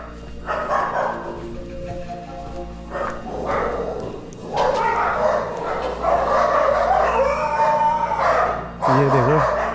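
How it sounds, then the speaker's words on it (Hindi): Stray dogs bark at night in the streets of Almora near a vegetable market, the barks loud and repeated in bursts amid general street noise, with someone talking over them. "ये देखो रात को ना कुत्तों का आतंक है तगड़ा अल्मोड़ी में"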